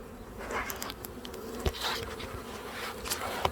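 Honey bees buzz steadily around a nuc hive in a yard, a close, continuous insect drone with individual bees passing near.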